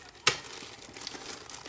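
While a DEERC 207E RC car is being unboxed, a plastic bag gives a sharp crackle and then keeps crinkling softly and continuously up close, with no talking.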